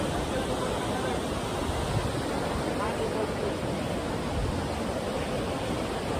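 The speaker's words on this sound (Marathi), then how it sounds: "संपूर्ण पाणी वाहत आहे एकाच्या साईडनं." Fast-flowing river water at Omkareshwar rushes in a steady, broad roar, constant and fairly near, with no distinct changes throughout.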